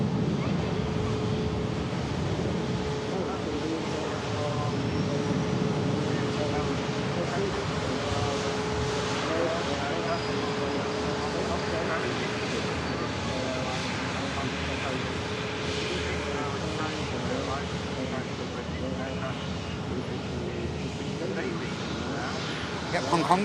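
An Airbus A350 jet departs Manchester Airport bound for Hong Kong, its engines a steady broad roar with a low droning hum that holds for the whole stretch at moderate distance.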